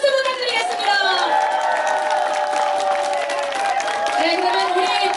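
Crowd applause and cheering for the Democratic Party leader at an outdoor campaign rally at Migeum Station, a dense wash of clapping and voices under a loud amplified speaker talking over it.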